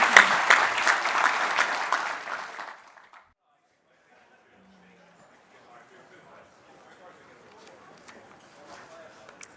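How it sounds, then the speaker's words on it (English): An audience applauds the panelists at a public-private partnerships panel discussion, with steady clapping for about three seconds before it stops abruptly, leaving near silence and faint room noise. "a round of applause for our panelists"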